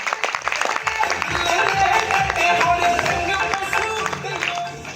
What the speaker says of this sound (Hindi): सेफ शॉप कंपनी और सिस्टम के लिए एक जोरदार तालियां हो जाए